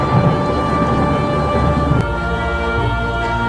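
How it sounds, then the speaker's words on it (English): A thunderstorm in the Roblox game sets in as a steady, dense roar of rain and rumble with no voices over it, holding even throughout and shifting slightly in tone partway through. "Look, a bad storm is coming."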